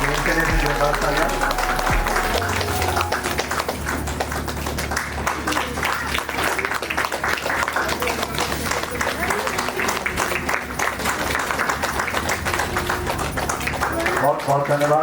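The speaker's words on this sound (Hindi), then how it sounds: "इनके लिए भी जोरदार तालियां।" An audience at a workers' honouring award ceremony applauds in a dense, sustained wave of clapping that lasts throughout, with a voice speaking over it.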